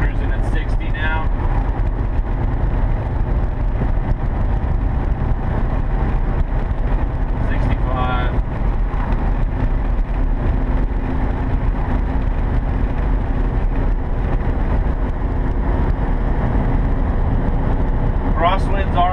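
A 1979 VW camper van with a pop top cruising at about 60 mph on the highway, a constant droning engine and road roar, with someone talking over it at intervals.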